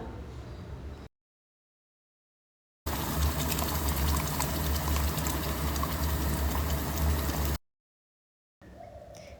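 Green coriander chutney paste dropped into hot oil with turmeric sets off a loud, dense sizzle lasting several seconds between stretches of silence.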